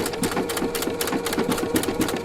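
A Husqvarna Viking sewing machine stitching wide decorative stitches with a circular attachment gives a fast, even, close chatter of rhythmic needle pulses with no voices.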